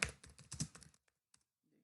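Rapid typing on a computer keyboard, a dense burst of close, crisp key clicks for about a second, then a few isolated taps in near silence.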